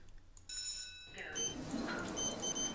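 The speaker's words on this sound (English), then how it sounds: "I hated this button press sound" An elevator button press in the SkyscraperSim game sets off a bright electronic chime, a clean sustained beep followed by a softer ringing tone, fairly faint over background hum.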